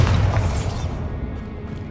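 A Bombarda blasting spell explodes in Hogwarts Legacy, one loud booming burst at the start that quickly fades into a rumbling tail.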